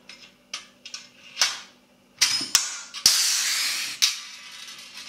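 A cordless rivet gun sets a 4.8 mm rivet, a size it struggles to pull, in a few close, short whirring bursts with sharp snaps and hissy tails, separated by brief pauses.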